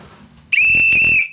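A loud, shrill whistle blast cuts in sharply and holds steady for under a second before stopping.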